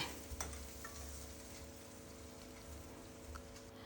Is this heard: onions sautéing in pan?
yes